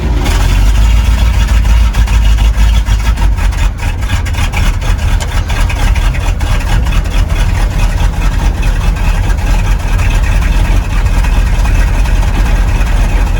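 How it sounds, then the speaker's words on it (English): An old truck engine runs after a cold start with the clutch in, choke out and in neutral, giving a loud, steady low rumble that idles continuously and evenly throughout, with no talk over it. "That's a dead cold start."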